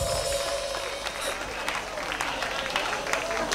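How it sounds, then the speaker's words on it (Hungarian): A festival audience at a tribute concert applauds a singer, a brief, fairly faint patter of clapping and crowd noise that stays steady for a few seconds. "Taps!"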